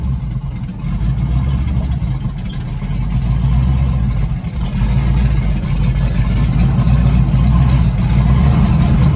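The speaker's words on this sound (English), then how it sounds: "God, I love the sound of the cam" Rat rod engine with a lumpy cam idling in a garage, a loud, deep, uneven rumble that holds steady close by, swelling slightly toward the end.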